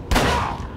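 A single sharp gunshot cracks out close and loud in Call of Cthulhu: Dark Corners of the Earth, its echo fading over a fraction of a second.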